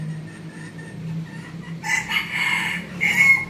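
A decoy rooster crows, first faintly, then in two louder, nearer crowing calls over a quiet background hum.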